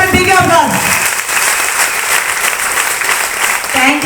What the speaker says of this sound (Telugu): ఒక్కసారి బిగ్ అప్లాజ్.